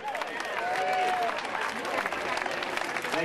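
An outdoor crowd on a town plaza applauds and cheers for swing dancers, a steady wash of clapping with voices mixed in.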